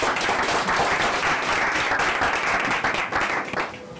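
An audience applauds and cheers loudly for a manager, dense steady clapping filling the room without pause before easing slightly near the end.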